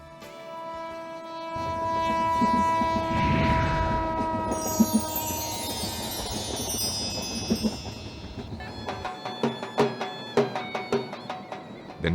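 A passenger train in Rajasthan bound for Bikaner rumbles steadily along with rhythmic rail clatter, its horn sounding in long tones, then rapid clicking wheel beats toward the end.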